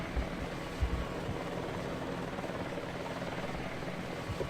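A Soviet Mi-8 helicopter in Battlefield Vietnam drones with a continuous low rotor rumble and a few soft thumps, steady and moderately loud with no voices.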